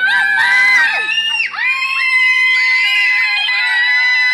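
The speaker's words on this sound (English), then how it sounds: "I can hear them, they're all screaming." Several people scream loudly and continuously at close range, high piercing overlapping voices that rise and fall in pitch without pause.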